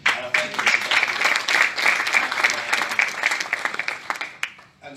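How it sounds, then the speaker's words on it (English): Steady applause from an audience, many hands clapping at once for several seconds before it quickly dies away. "I want you all to give my dad a round of applause for that"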